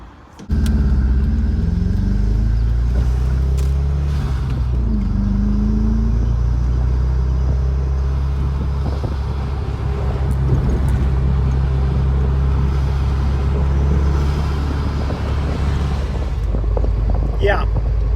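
Audi TT MK1 on a road test after turbo inlet pipe replacement, heard from inside as a steady low engine and road drone with wind buffeting, continuous and fairly loud for the whole stretch.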